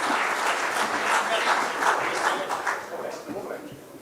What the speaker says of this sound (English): a big round of applause for Myra